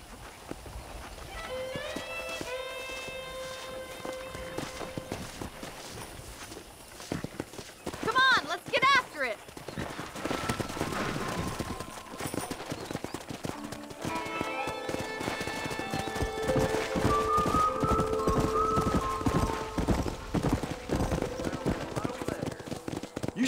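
Horse hooves clip-clop in a steady rhythm amid Red Dead Redemption game sounds, with occasional whinnies and people talking over the action while wrangling horses.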